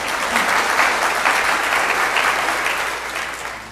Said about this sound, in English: Give them a round of applause for that one.